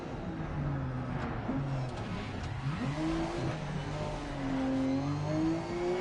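Nissan Skyline RB26 inline-six engine in a racing video game, revving and shifting through gears with rising and falling tones, steady and fairly close under quiet background.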